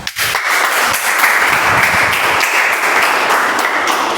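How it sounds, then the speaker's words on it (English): A Toastmasters meeting audience claps steadily to welcome a speaker, full and fairly loud applause that starts abruptly and holds evenly for about four seconds. "With a huge round of applause, I would love to welcome"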